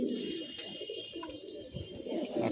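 Pigeons coo softly in a low, throaty murmur, fairly faint and close, with some background rustle.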